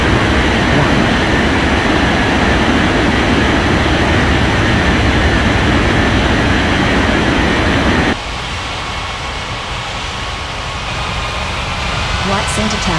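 In a game of airport traffic control, a jet airliner rolls down the runway for takeoff, its engine roar a loud, steady rushing wash that suddenly drops away to a quieter hum partway through.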